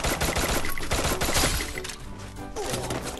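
Gunfire in the Free Fire battle royale game crackles in dense, rapid bursts of overlapping shots, loud and close, thinning briefly before resuming.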